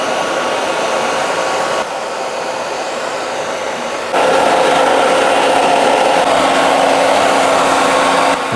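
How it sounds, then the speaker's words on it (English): A hair dryer with a diffuser, running at medium speed, blows a loud, steady whoosh close by and steps up to a stronger, higher setting partway through, with no talking over it. "Now, diffuser on the hairdryer, medium speed, okay?"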